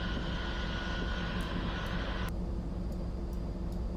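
Boeing 777 jet engines running after start-up in the X-Plane 11 flight simulator, a steady broad roar with a constant drone, joined by a few faint high clicks partway through.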